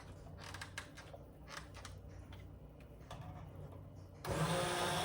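A blender whirs to life on its low setting, blending roasted organic butternut squash soup. It starts after soft creaks and handling noises and runs loud and close to the end.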